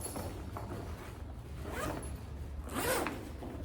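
An Arxus large duffel bag's zipper is pulled in several quick strokes, close up, each a short raspy zip with a louder final pull, no talking.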